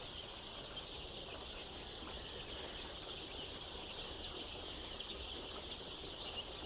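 At a large white-layer poultry farm with over 10,000 hens, a dense flock of birds rustles and flutters while rushing toward freshly poured feed, with a steady high chirping chorus and soft clucks throughout and no speech.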